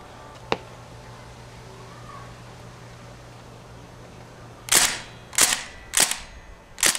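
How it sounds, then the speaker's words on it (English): A KWC Mini-UZI CO2 airsoft gun fires a single sharp shot, then after a pause lets off four quick bursts in a row, each a crisp pop close by. "if you do burst fire, it will eventually not have enough momentum to keep hitting the CO2 valve, so we'll do a couple bursts"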